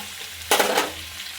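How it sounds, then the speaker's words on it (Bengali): Pieces of pointed gourd (potol) dropped into hot oil in a pan, giving a sudden brief burst of sizzling that quickly settles into a softer frying hiss. "পটল ভাজা পটলগুলো ভেজে নিচ্ছি"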